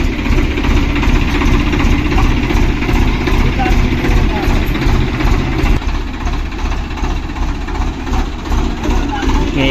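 A heavy tractor engine idles with a steady low chugging throb throughout, loud and close, while people talk faintly in the background during a household vehicle puja.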